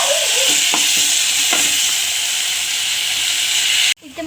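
Chopped tomatoes fry in a pan while being mixed, giving a loud continuous sizzle with a couple of spoon scrapes before the sound cuts off abruptly near the end.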